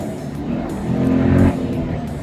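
A car with a Tremec TR-6060 manual transmission downshifts into second gear, the engine note swelling in a brief rev-matched blip before dropping back to a lower idle-like rumble, close and fairly loud.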